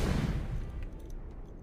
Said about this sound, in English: there is the sound of a distant explosion.